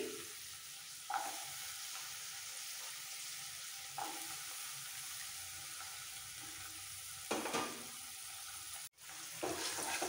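Fenugreek greens and boiled green peas stirred in hot spiced oil for a vegetarian matar methi malai, giving a steady close sizzle with a few sharper scraping stirs and clinks against the pan.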